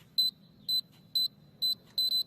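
Home security alarm system keypad beeping as it is armed, five short, sharp, high electronic beeps in an even rhythm, each about a tenth of a second long, with the final one doubled, close by and clear over a low room hum.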